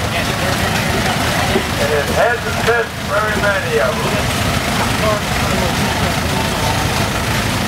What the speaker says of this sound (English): we're starting off with steam engine now